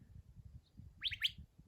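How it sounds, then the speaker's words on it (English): A short bird whistle, two quick rising notes, fairly faint and distant over low rumbling background noise. "I don't know what kind of bird that is."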